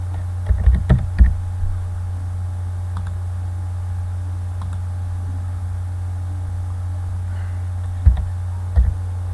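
Sparse keyboard clicks on a computer keyboard while working in an Excel spreadsheet, a few quick taps near the start and end with long quiet gaps, over a steady low electrical hum.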